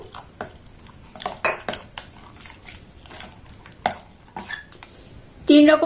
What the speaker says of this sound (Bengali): এটাকে আমি খুব সুন্দর করে দেখুন ব্লেন্ড করে নিচ্ছি